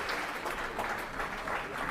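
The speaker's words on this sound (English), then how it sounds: "I'm sorry we're still clapping." Steady applause fills the House of Commons as MPs clap together, a dense, even patter that carries on without a break through the whole moment, with no voices heard over it.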